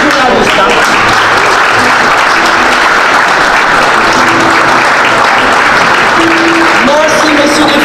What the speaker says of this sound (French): Applaudissez les journalistes.